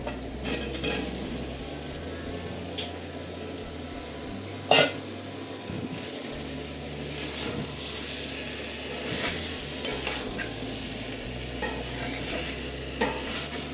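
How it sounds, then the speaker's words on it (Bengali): Eggs and potatoes go into spice masala frying in oil in a pan, giving a steady sizzle with scraping stirs and a sharp utensil knock near 4.7 seconds, fairly quiet and close, with no talking. "এই যে এখন ডিম আর আলুগুলো দিয়ে দেবো"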